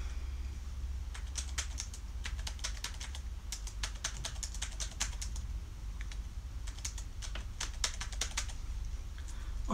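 Rapid keyboard typing comes in bursts of crisp, close clicks with short pauses between runs, over a constant low hum.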